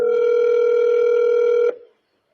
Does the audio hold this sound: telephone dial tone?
yes